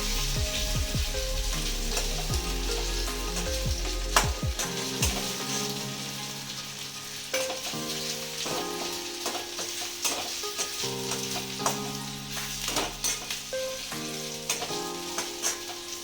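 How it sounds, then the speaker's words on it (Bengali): Onions fry in a pan while a spatula stirs and scrapes them, giving a continuous sizzle broken by frequent metallic clinks and scraping strokes, close and fairly loud, with no talking. "ভাজা ভাজা হয়ে গেলে পেঁয়াজটা আমরা একটু নামিয়ে নিব"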